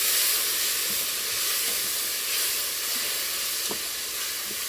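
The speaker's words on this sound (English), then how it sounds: "I'm gonna throw in some onion, and you can toast up the onion while the noodles are getting brown as well." Fideo noodles and onion toasting in a hot pan give a loud, steady, close sizzling hiss with a few faint scrapes of stirring underneath, continuous and with no talking.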